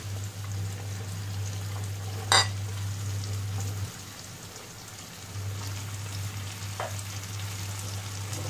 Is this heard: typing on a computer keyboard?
no